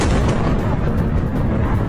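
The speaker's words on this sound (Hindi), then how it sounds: "हमले के बाद ये देखिए कितना जोरदार धमाका कैमरे में कैद हुआ है" A loud, sustained explosive roar from an attack on Russia, with heavy low rumble, fills the whole moment, dense and continuous without a pause.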